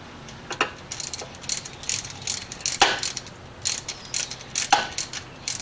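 Bolts being run down and snugged up on the thermostat housing of a 1978 Dodge W150 with a ratchet: rapid clicking pawl bursts repeat in short strokes, close and moderately loud.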